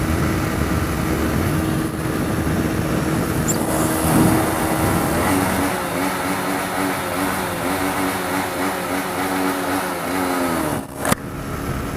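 A car driving through a tunnel with a quiet exhaust, a steady droning engine and road roar echoing evenly throughout, no talk.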